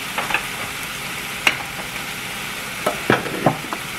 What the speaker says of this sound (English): That'll kind of help sweat those onions.